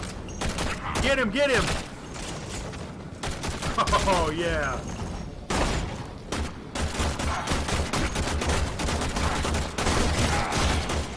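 Rapid gunfire from the PC/PS4 shooter Warframe crackles in dense volleys throughout, loud and continuous, while players shout excitedly over the shooting.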